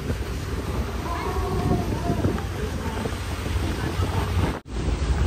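Strong wind buffets the microphone on a boat at sea off Ayia Napa, Cyprus, a constant roaring rush with faint water sounds beneath and muffled voices mixed into the noise.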